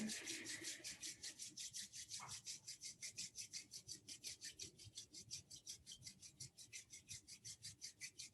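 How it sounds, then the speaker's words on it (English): Palms rubbed briskly together in a steady back-and-forth rhythm, about thirty quick rasping strokes, close and alone with a faint hum beneath. "Rubbing your palms together."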